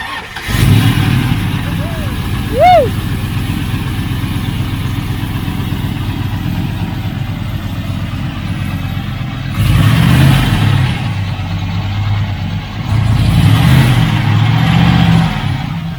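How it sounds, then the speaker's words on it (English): A 1970 Plymouth Duster engine fitted with stainless steel headers starts and idles loud and close, with two sharp revving bursts later on, while people talk nearby. "with these stainless steel headers, you can always hear the crackety clack"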